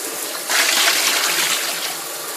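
About 1 1/4 cups of water poured into a pot for curing pork belly into bacon: a steady splashing gush that starts abruptly and runs for about two seconds, close by with no talking.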